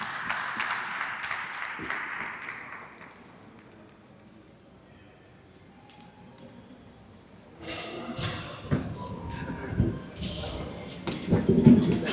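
Audience applause at a Senegalese urban culture panel, a broad burst of clapping from the hall at the start that fades, followed by crowd noise and talk.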